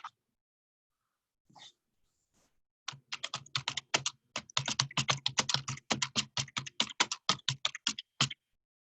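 Typing on a computer keyboard heard over a webinar connection, a brief faint noise then a steady run of rapid clicking keystrokes lasting several seconds, alone without speech.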